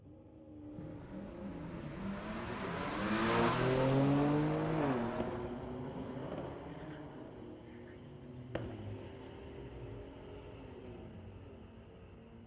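A BMW and a Porsche race down a drag strip at a raceway, engines swelling to a loud peak as the cars pass, then trailing off into a softer, distant roar.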